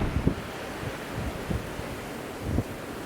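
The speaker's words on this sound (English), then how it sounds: "now that I've walked around a bit, it's actually quite windy here too." Low, steady wind rumble buffeting the microphone outdoors in Thailand, with a few brief gusty thumps and no voices.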